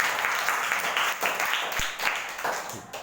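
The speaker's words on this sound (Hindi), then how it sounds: "जोरदार तालियों से स्वागत कर देते हैं" Steady applause from a storytelling workshop audience, a dense wash of clapping that carries on throughout without letting up.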